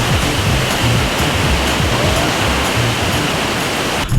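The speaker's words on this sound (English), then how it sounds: "I see an epic waterfall and there's not a lot of time to stop and check it out" An Icelandic waterfall roars as a steady, loud, broadband rush of falling water, continuous and unbroken throughout with no voices.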